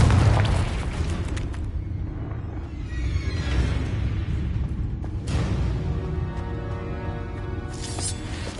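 A Confringo explosive spell goes off in Hogwarts Legacy as a loud, sustained fiery boom and rumble with crackling bursts layered over it, close and dense throughout, with no talking.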